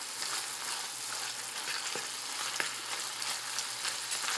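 Chicken sizzles in a pan with Italian seasonings for a tomato basil pasta, a bright continuous frying hiss with occasional stirring clicks, close and alone.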